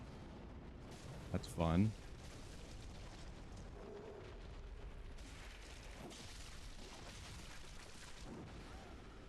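A cannon in the video game Bloodborne fires once in a short, loud burst near the start, with game ambience and talk throughout the rest.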